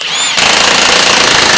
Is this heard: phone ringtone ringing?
no